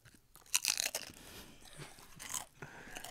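Chips crunch loudly in a mouth close to the microphone, a few sharp bites followed by quieter, ragged chewing that fades and returns near the end.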